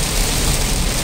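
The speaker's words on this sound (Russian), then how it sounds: "Хороший ливень, так что дворники еле справляются." Heavy tropical downpour drumming on a car driving along highway I-95 in Georgia, wipers struggling; a dense, steady, loud roar of rain fills the cabin without pause.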